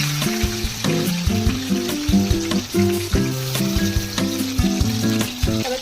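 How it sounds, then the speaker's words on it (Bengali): Onions hit hot oil in a wok where a bay leaf is already frying, giving a steady, close sizzle that runs under music playing throughout. "তারপরে এবারে আমি দিয়ে দেবো পেঁয়াজ।"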